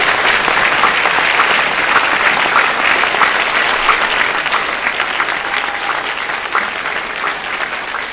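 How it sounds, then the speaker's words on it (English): An audience gives a talk's guest speaker a warm round of applause, with full, sustained clapping from many hands. The sound is loud and close, fading only slightly toward the end. "Can we give him a great round of applause?"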